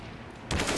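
Glock pistol gunfire in a competitive shooter video game: a sudden loud burst of shots breaks in halfway through after a quiet stretch.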